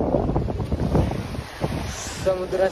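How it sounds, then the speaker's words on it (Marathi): Sea waves washing in at a shore near Ram Setu, a rushing surf under strong gusty wind noise on the microphone, with brief voices nearby. "समुद्र इकडे सगळा आवाज"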